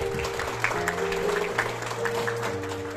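An audience applauds at an award ceremony honoring Korean War veterans at an appreciation banquet. Dense, continuous clapping fills the room at moderate volume, with a steady tonal hum underneath.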